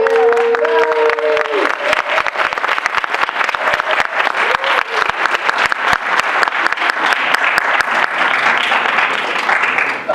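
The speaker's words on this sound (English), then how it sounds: "Let's give a big round of applause." Audience applause at a keynote talk, a loud sustained burst of many hands clapping with crowd noise, while a voice speaks briefly at the start over it.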